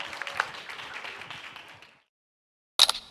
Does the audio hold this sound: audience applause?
yes